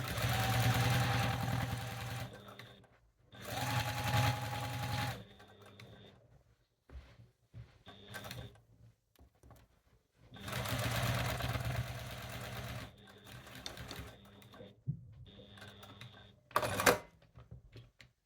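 A sewing machine with a walking foot stitches layers of quilt fabric in several loud motor-driven bursts, separated by pauses and soft handling clicks.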